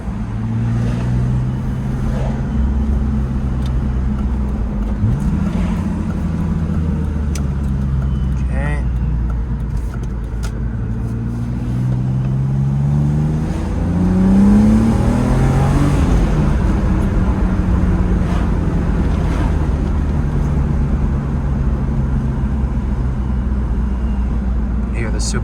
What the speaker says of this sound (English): Supercharger whine.